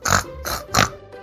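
A pig gives three short, breathy grunts in quick succession, close by and moderately loud, followed by a fainter fourth snort.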